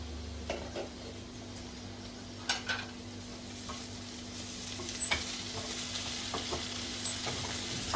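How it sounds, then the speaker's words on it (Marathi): Sliced tondli (ivy gourd) frying in a pan, with a soft steady sizzle under occasional scraping clinks as the vegetable is stirred, close and fairly quiet with no talk. "परत दोन तीन मिनिटांनी मिक्स करून घेऊया"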